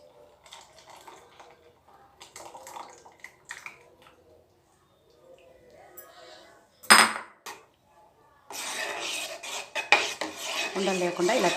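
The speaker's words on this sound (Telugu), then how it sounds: "ఉండలు లేకుండా ఇలా తిప్పుతూ ఉండండి" Bombay chutney batter stirred in a pan, with intermittent clinks and scrapes of a utensil against the pan, then a louder stretch of sizzling and scraping toward the end.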